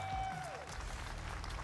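A Halo esports crowd at a championship event applauds as legend Richie Hines comes out to the stage, a steady wash of clapping beneath a brief tone and a low hum.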